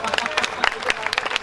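Audience clapping at a kavi sammelan comedy poetry show, a brief burst of dense, crackling applause from many hands with a rapid, uneven rhythm.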